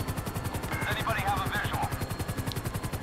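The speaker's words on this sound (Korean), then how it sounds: "자 헬기를 드디어 탔어요" A helicopter in GTA 5 (Spider-Man mod) chops steadily with rapid, even rotor pulses throughout, loud and close, while a voice talks briefly over it in the middle.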